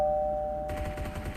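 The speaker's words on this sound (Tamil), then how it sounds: "காலிங் பெல் சவுண்ட் கேக்குது பாரு" A doorbell rings indoors, a steady two-tone chime sounding clearly for about a second, with faint room noise underneath and a brief shift in background partway through.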